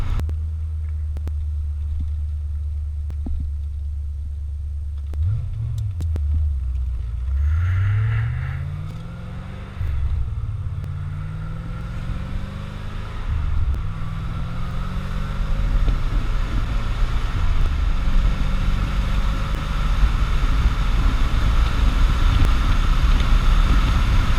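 A C4 Corvette engine drones low and steady while driving, with rising and falling revs as gears shift, then settling into a louder cruise near the end, with wind and road noise underneath.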